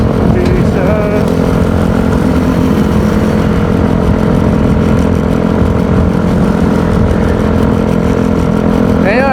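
A Yamaha Mio Gear 125 scooter engine drones steadily while riding on a group ride, a loud continuous hum with wind noise and a short rising rev near the end.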